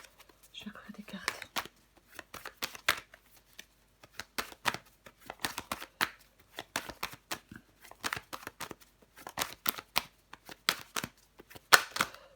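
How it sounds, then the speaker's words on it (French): Tarot cards are shuffled and laid out in many crisp, close riffles and slaps spaced irregularly across the stretch, quiet and intimate, with faint murmured speech in places. "Je vais recouvrir des cartes."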